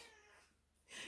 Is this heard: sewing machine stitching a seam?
no